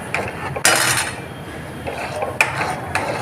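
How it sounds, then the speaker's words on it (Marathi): A metal spoon scrapes and clinks against a pan while a tomato and besan mixture is stirred, several sharp knocks standing out over a steady scraping, close and fairly loud, with no talk. "आता आपण याच्यामध्ये घालून घ्यायचं आणि हे ढवळून घ्यायचं"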